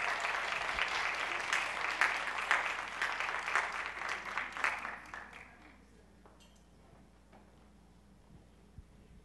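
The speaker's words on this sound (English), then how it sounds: "Let's give her a big round of applause." Enthusiastic audience applause at a school drama presentation, loud sustained clapping for about five seconds that then fades into a quiet room with a few scattered claps.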